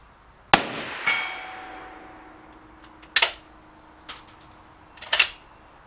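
A 7.5x55 rifle with open sights fired with a reduced load outdoors: one sharp, loud crack with a ringing tail, followed by metallic clacks and clicks of the action being worked.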